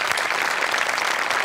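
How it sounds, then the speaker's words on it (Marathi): A studio audience at a Marathi comedy show claps together in a brief, thick burst of steady applause, close and even throughout with no talk over it. "टाळ्या वाजवूया प्लीज"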